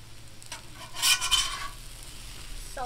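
Potatoes and sausage cook on a Camp Chef griddle, a short burst of spatula scraping and stirring over a soft sizzle, close and without voices.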